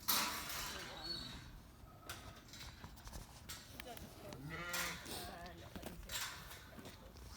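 Sheep bleating in a farm pen among other livestock, with several calls around the middle of the stretch, some near and some farther off, heard under a person talking and giving commands to a dog.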